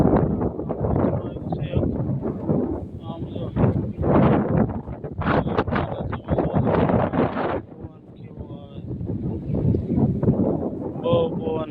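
Strong wind buffets across an open farm field, a steady rough roar that swells and gusts throughout while someone talks over it.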